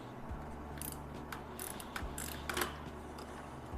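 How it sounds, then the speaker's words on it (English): A ratchet backs out 12mm fork bolts on a third-generation KLR650 motorcycle, giving quiet, close bursts of rapid pawl clicking with brief pauses between strokes. "So we'll start by removing these bolts here on the forks."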